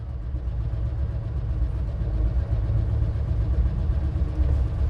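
Invacar three-wheeler with centrifugal clutch idles steadily at close range, a continuous low mechanical drone with no talk over it.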